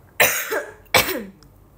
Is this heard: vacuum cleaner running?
no